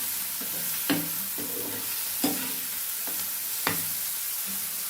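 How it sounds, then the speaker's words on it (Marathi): A farsan breakfast mixture being stirred in a pan, with a light sizzle underneath and four sharp spoon scrapes and knocks spaced about a second apart, close and clear. "आणि हे छान हलवून घ्यायचे मस्त."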